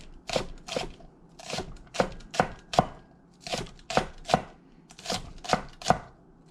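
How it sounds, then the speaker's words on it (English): A knife rough-chops greens on a cutting board in quick uneven bursts of sharp close thwacks, about a dozen and a half crisp strokes with short pauses between groups. "The rest of these are just going to get rough chopped"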